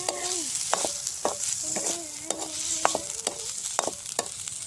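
Onions fry in a pan for pasta cooked outdoors in a jungle, a soft steady sizzle broken by sharp clinks and scrapes of a spoon stirring against the metal, close and clear with no talking.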